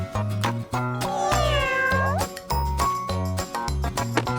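A white kitten meows several times over a musical backing with steady rhythmic bass notes, its cries rising and falling clearly above the tune.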